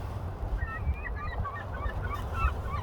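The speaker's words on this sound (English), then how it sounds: "Open water, seagulls and all that." Seagulls calling over open water and breaking ice on a morning nature walk, several faint, scattered cries in the distance above a steady low rumble of wind and ambient noise.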